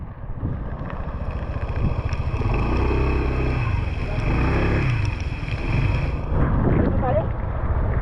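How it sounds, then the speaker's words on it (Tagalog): Strong mountain wind near a landslide on the road to Sagada roars steadily into the microphone with heavy low rumble and buffeting, while people talk faintly underneath. "Lakas ng hangin eh."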